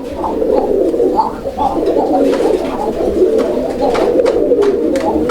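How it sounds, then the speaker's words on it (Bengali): A pigeon at a breeding farm coos in repeated soft, low rolling calls, close and clear, with faint background noise and no speech. "মাশাল্লাহ অনেক সুন্দর একটা কবুতর"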